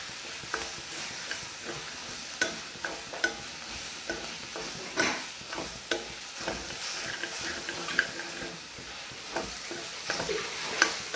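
Garlic ginger paste frying and being stirred in a pan for jackfruit masala, a soft steady sizzle broken by repeated scraping stirs, close and quiet with no talk.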